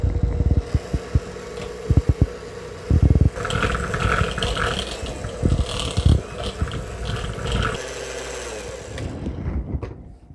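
Chocolate fat bomb ingredients being mixed into a thick, creamy, chunky blend, giving loud, close, irregular thumps, knocks and scraping that run throughout with no talking.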